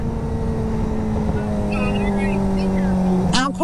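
A motorcycle engine hums in a steady, close drone while riding, with a voice talking over it and a brief sharper burst right at the end.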